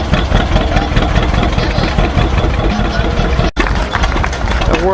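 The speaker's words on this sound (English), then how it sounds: "The world's slowest tractor race going on right now." John Deere tractors idle and crawl along in a slow tractor race at an expo in New York, giving a continuous, rumbling engine drone that briefly drops out for an instant before resuming.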